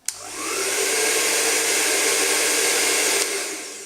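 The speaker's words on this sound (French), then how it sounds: "Pour analyser le bruit émis par ce sèche-cheveux Remington" Remington AC9007 hair dryer switched on at its lowest speed, blowing a steady, broad whooshing roar up close for several seconds before cutting off, with a faint motor hum beneath the airflow.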